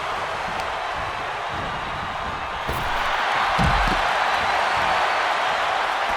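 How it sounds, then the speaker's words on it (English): Deafening video game arena crowd from a WWE 2K24 ambulance match between Nikki Bella and John Cena, a dense continuous roar that swells louder halfway through, with a brief low thud near the middle. "The sound of this crowd is deafening"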